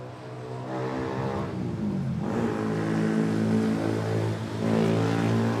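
An ATR turboprop airliner takes off at Manila Airport, its engines droning with a steady, rising propeller tone that grows gradually louder and holds strong throughout.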